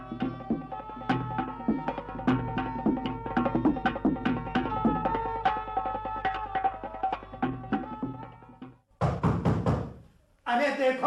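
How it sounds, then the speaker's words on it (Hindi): Knocking on a door in a Hindi radio play, a steady series of sharp knocks running for several seconds before a voice calls out briefly near the end. "अरे देखो भाई, कोई दरवाजे पर है।"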